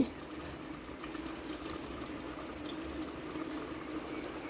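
Steady watery pouring into a cooking pot with a soft continuous splash, fairly close, running evenly without pause and no voices.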